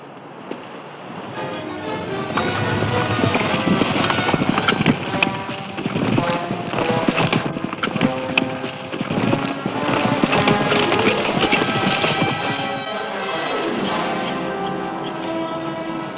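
Horses' hooves clip-clop steadily on open Old West ground, a dense run of close hoofbeats mixed with jingling tack and a continuous backdrop of other sounds.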